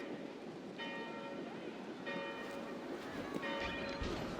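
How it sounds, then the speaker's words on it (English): Chapel bells in the Assassin's Creed Valhalla video game ring in faint, repeated strikes that sound distant, set against a soft, steady rainy ambience. "Do you not hear the bells?"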